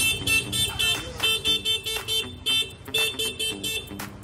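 The horn of a 2021 Suzuki Skydrive Sport motorbike honks repeatedly in short, loud, rhythmic beeps, close by, with no talking.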